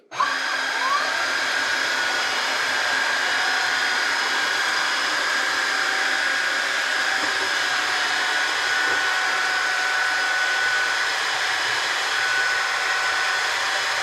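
A Roborock Dyad wet and dry vacuum cleaner runs in auto mode, producing a loud, steady motor whine that starts abruptly and holds unbroken for about fourteen seconds, with no one speaking.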